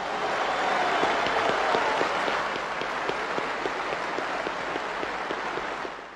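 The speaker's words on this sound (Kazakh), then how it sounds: "осы Шұғылаға бір қаттырақ ду қол шапалақтаңыздар" A crowd at a celebration gives a sustained, loud round of applause for Shugyla, a dancer performing in Beijing, with many hands clapping in a dense, even wash that tapers slightly at the end.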